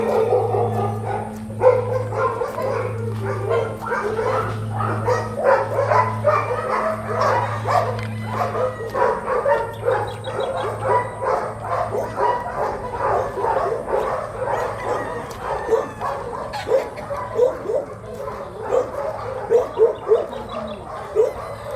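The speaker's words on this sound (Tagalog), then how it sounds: "May aso din eh." Dog barking repeatedly on a farm on a rainy afternoon, yips and bow-wows recurring close by over a steady low engine-like hum and background noise, with roosters and fowl also faintly present.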